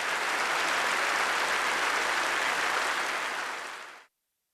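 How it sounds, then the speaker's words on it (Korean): Thunderous sustained applause from participants at a Workers' Party of Korea Central Committee plenary meeting, a dense uniform roar of clapping that fades out and cuts to silence near the end. "전체 참가자들은 우롱찬 박수로서 전적인 지지 찬동을 표시했습니다"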